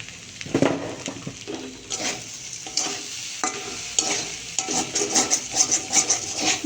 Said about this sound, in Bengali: তারপরে এবার একটু ভেজে নেব